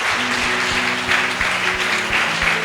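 A church congregation at a Sunday worship service applauding for the Lord, dense continuous clapping filling the room, loud and sustained, with a steady low tone beneath.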